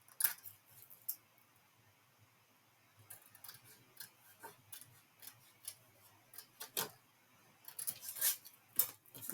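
Scissors snip paper while library card pockets are cut to size, a quiet series of irregular close clicks and crisp cuts, sparse at first and then quicker and clustered toward the end.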